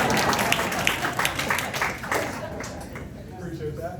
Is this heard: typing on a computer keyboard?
no